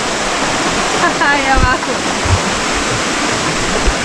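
Steady rush of river water falling in a Patagonian park in Chile, a dense continuous roar throughout, with a person briefly speaking over it.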